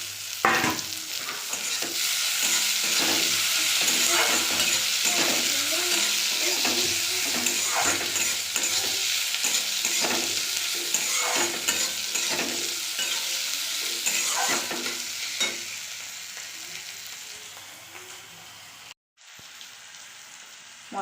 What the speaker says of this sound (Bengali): পেঁয়াজ রসুন কাঁচা লঙ্কা টমেটো আমার কড়াইতে হালকা আবার একটু নেড়ে নিয়েছি